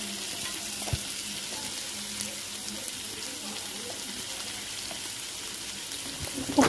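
Onions with salt frying on a high flame for biryani, a steady, close sizzle hissing in the pan with a few soft clinks of stirring.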